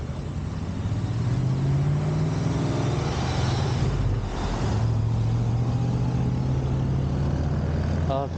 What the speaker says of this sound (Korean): 큰 차들이 많아요.